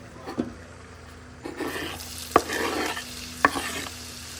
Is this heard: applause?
no